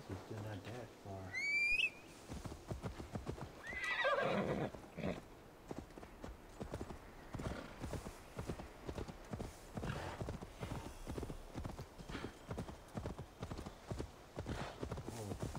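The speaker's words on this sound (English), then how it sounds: "Get our horse." A horse in the Assassin's Creed Valhalla video game whinnies briefly near the start, then its hooves clip-clop in a steady rhythm as it is ridden, with someone talking over the game sounds.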